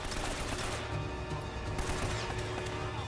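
Gunfire in the video game Uncharted: Drake's Fortune, a dense stream of rapid shots and impacts running continuously under a busy, noisy game soundscape, with no talk.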